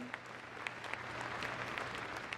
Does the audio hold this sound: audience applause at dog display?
yes